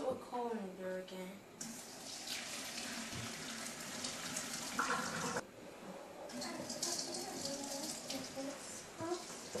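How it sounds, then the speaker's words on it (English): Spaghetti noodles and their water pour out of a pot into a colander, a steady rushing splash lasting several seconds with brief pauses, close and moderately loud, with a voice speaking over it. "Now we drain the noodles into a colander again."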